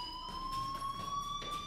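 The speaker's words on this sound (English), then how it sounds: "Hey, do you hear that fire alarm?" A fire alarm rings in the video game Life Is Strange, a steady high electronic tone held throughout with faint rhythmic pulsing, fairly quiet and alone with no voices.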